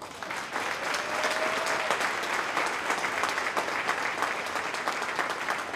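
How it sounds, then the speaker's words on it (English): An audience claps in a steady round of applause at a gathering, a thick, continuous wash of many hands that rises quickly and stays full throughout. "Let's all give them a round of applause."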